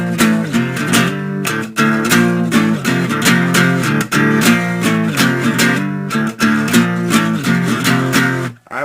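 A song's pre-verse is played on guitar as loud, distorted, chugging chords in a driving rhythm with short gaps between phrases, close and without voices.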